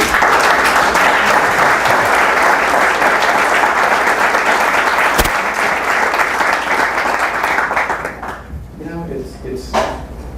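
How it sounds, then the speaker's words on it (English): An audience breaks into loud, sustained applause that tapers off near the end, with a single sharp knock partway through and scattered voices as the clapping fades. "I honestly think we should applaud all of them"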